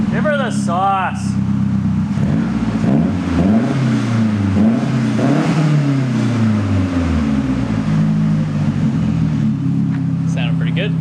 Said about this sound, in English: Never revved the Speed before, and it's finally to the point where I can rev it a little bit.